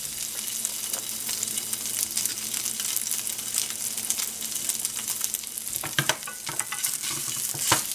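Trader Joe's vegan chicken-less strips sauteing in a pan, a continuous close sizzle broken by frequent scraping stirs and clatter, without any speech.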